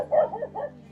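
A chained husky gives two short yelping barks close by, a quick pair of yips in a brief burst.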